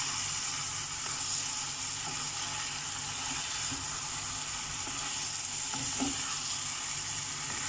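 Chicken browning in a pan with garam masala and spices, a steady dense sizzle running the whole time with occasional scrapes and stirs, close and continuous, no voices.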